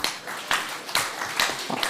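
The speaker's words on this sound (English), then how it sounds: "Can we have a big round of applause?" Applause from an audience at a medical conference in a hospital hall, a short burst of scattered clapping with uneven pulses, fairly distant and moderate in loudness.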